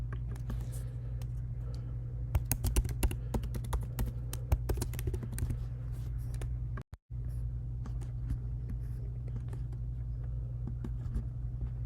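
Computer keyboard keys are tapped out in a quick run of sharp clicks while a password is entered, over a steady low hum, then a pause and a few sparser taps.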